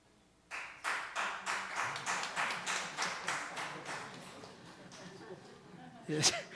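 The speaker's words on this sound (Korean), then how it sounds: "제가 설교하면서 박수 받아본 처음입니다." A church congregation bursts into applause during a Sunday worship sermon, with brisk clapping swelling for several seconds and gradually thinning out, closed by a sharp sound near the end.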